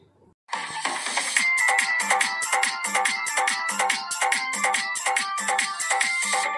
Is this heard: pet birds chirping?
no